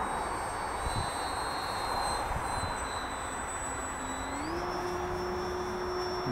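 An FMS SuperEZ V3 radio-controlled plane flies with a thin, high electric whine that holds steady, then rises sharply in pitch as it speeds up, over light wind and no talk.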